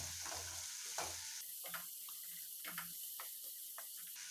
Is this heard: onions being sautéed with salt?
yes